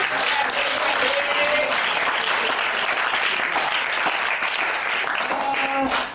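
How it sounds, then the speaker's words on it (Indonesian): Classroom applause in a high-school arts lesson on Javanese gamelan karawitan, a dense steady patter of many hands clapping at close range for about six seconds, with a few voices and faint tonal sounds near the end. "Oke, tepuk tangan."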